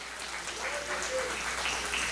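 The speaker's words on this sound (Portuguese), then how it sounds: "Será que vale uma salva de palmas nesta noite para esse Espírito Santo?" A church congregation applauds during an evening sermon on the Holy Spirit, with steady dense clapping filling the room and voices mixed in underneath.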